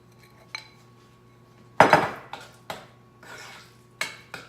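A utensil scrapes and knocks against a bowl while almond flour dough for keto cinnamon rolls is mixed, a few sharp clinks and scrapes arriving irregularly, close up with no voices.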